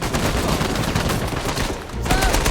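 Turret gunfire in the video game Uncharted 4, a dense, loud, continuous stream of rapid shots with a brief dip before it resumes at full force.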